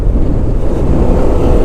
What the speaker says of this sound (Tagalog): yung nararanasan natin ang lakas ng hangin